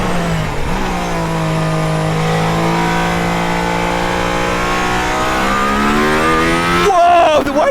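A Mercedes-AMG ONE hypercar engine revs hard and climbs steadily in pitch as it accelerates on the Nürburgring race track, loud and close, with a quick gear shift near the end.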